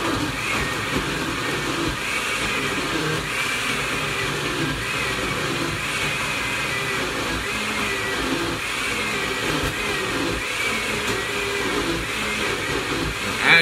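A household blender grinds raw pork in a steady, unbroken motor whir that strains slightly and stays loud and close for the whole stretch.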